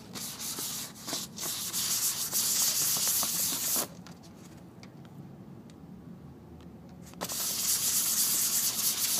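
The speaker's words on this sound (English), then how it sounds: "Just sand it down like this." Sandpaper rubbing back and forth over the satin finish on an acoustic or electric guitar neck, a steady close scratchy sanding that pauses briefly in the middle before resuming, with no talking.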